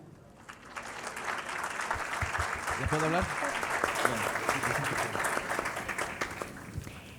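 Audience applauding a speaker being welcomed at a transparency technology panel, sustained clapping filling the room with a short spoken question partway through.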